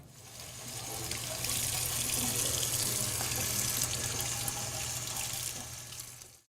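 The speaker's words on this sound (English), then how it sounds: "I'm ready to take that to the sink and get that rinsed off" A kitchen sink tap runs steadily as etched glass is rinsed under it, a close, even rush of water that swells in and holds constant for several seconds before cutting off at the end.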